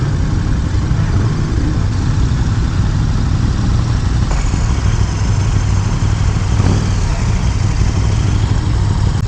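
A KTM Super Duke motorcycle engine runs steadily close by, a loud, gruff continuous drone with a slight shift midway and no talking.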